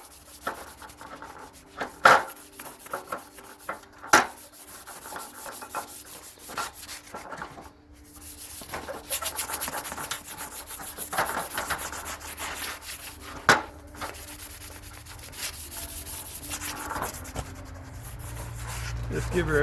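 Exhaust pipes from a 1978 Suzuki PE250 dirt bike being hand-sanded, with steady scratchy rubbing strokes close by, broken by a few sharp knocks and short pauses.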